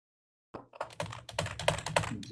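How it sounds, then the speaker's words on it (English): Fast, forceful typing on a mechanical keyboard, a close run of sharp, uneven key clacks that bunch into heavier bursts, with no talking. "that was very aggressive typing. I use a mechanical keyboard"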